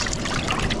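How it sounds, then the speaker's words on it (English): Hands are washed in water at the beach during a fishing trip, giving a brief close splashing and trickling wash that stays steady and loud for under a second with no talk. "Do a little hand wash"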